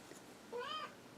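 A cat gives a single short meow, quiet and slightly distant over faint room noise.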